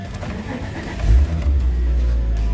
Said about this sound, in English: we're going to fire this bad boy up